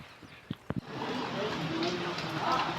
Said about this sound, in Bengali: এখানে এখন বৃষ্টি পড়ছে